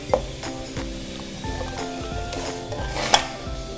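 Minced pork sizzles and fries in a hot pan for Thai larb, with a utensil stirring and scraping against the metal throughout.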